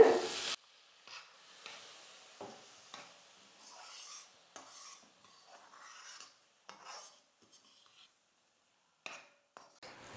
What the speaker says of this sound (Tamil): எடுத்துருக்கிற எல்லா பாலையும் இப்படி கொஞ்சம் கொஞ்சமாக சேர்த்து நல்லா குக் பண்ணிக்கோங்க.